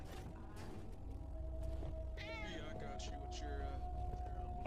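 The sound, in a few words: person imitating a cat meowing in GTA roleplay video game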